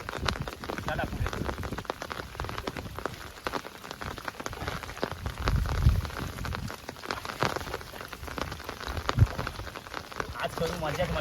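Heavy rain falling outdoors during a village prawn-fishing trip, a steady dense patter of drops on surfaces and water, loud and continuous, with a person talking over it at times.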